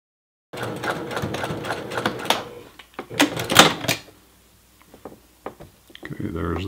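Home sewing machine stitching a T-shirt seam with a presser foot set between the quarter and half inch mark, running in bursts of rapid mechanical clatter with brief pauses, close and fairly loud.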